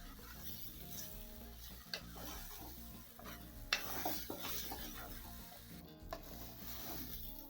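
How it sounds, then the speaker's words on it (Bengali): Pulao rice being stirred with onions in a pot for a chicken roast and pulao meal, a steady scraping and shuffling with faint sizzle and a few sharp utensil knocks, close and continuous without talk. "পেঁয়াজের সাথে ভালো করে নেড়ে চেড়ে নিলাম"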